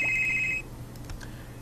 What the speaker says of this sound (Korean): 자, 우리 첫 번째 전화 왔네요.